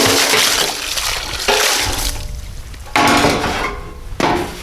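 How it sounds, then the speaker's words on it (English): Snow and ice being dumped out of containers indoors at an off-grid forest cabin, several loud crunching, clattering bursts separated by short pauses, with no talk. "I'll empty all the snow and ice out of these so they're ready when we do have sap."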